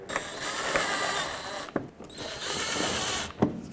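A power tool drives 7mm screws into the radiator shield of a 2007-2009 Saturn Aura, giving loud, close, sustained whirring runs separated by short pauses and clicks.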